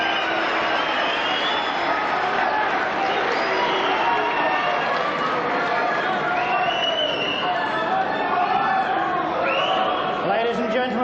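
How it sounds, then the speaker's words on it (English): A snooker crowd at a match stays noisy, with a continuous din of chatter, cheering and shouts that holds at a loud, steady level throughout. "I'll answer you when the crowd quieten down"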